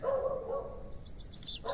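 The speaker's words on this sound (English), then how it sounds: "Dog barking." Distant dog barks in The Excavation of Hob's Barrow, a few faint woofs over outdoor ambience, followed by light bird chirps toward the end.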